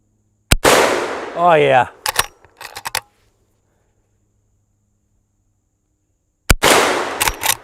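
A Henry lever action rifle in .44 Magnum fires two sharp, loud outdoor shots a few seconds apart, each followed by a ringing echo and the clack of the lever being worked. A person speaks briefly between the shots.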